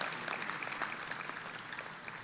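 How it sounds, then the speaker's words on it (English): Applause at a trophy dinner for an interviewer from D3 Football, a dense, even patter of many hands clapping in a banquet room, steady and somewhat distant throughout. "let's give Keith McMillan a big round of applause from D3 Football"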